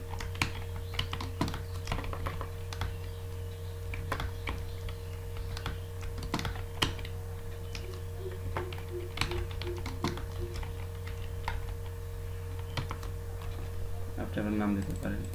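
A name is typed on a computer keyboard while working in Microsoft Word 2013, giving quiet, irregular key clicks in scattered bursts over a steady low electrical hum, with a brief voice near the end.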